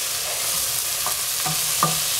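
Tomatoes and potatoes being stirred in a hot frying pan, a continuous close sizzle with a few soft scraping strokes of the spoon, no voices.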